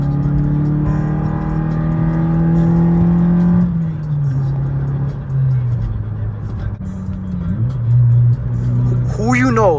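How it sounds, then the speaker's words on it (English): A 9th-generation Honda Civic Si accelerates hard through its VTEC crossover, its loud engine note rising in pitch before quick gear changes drop it back. The pull ends with a sharp, whining chirp. "maybe we could do just a little quick pull. Y'all get your VTEC crossover"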